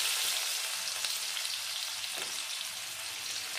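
Chopped onion hits hot oil flavoured with five-spice, setting off a loud, close, continuous hiss of frying that stays even and steady throughout, with no voices over it.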